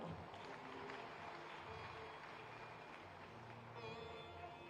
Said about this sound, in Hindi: जरा इनके लिए भी ताली बजा दो।